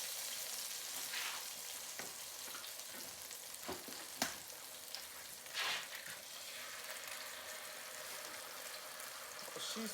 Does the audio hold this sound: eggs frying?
yes